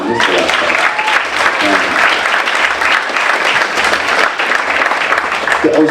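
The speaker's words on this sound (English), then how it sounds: "maybe we just give him a round of applause for bringing this to life" A seated audience at a talk breaks into sustained, dense applause that stays loud and steady throughout, with a few faint voices mixed in.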